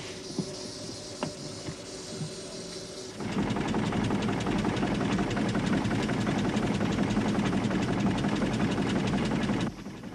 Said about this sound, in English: I was working on the engine.